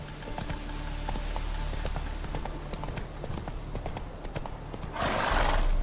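Roach the horse gallops in The Witcher 3, a steady clip-clop of hooves with whinnying throughout, swelling into a louder rushing burst near the end.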